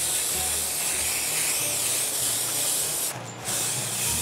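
A pumpkin being spray painted, a steady, close, loud aerosol hiss that runs almost continuously, with one brief pause just after three seconds before the spray resumes.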